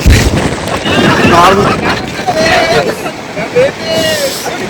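Strong gusts buffet the microphone at Gleniff Horseshoe in Sligo, a loud rumbling roar with people's voices talking over it throughout.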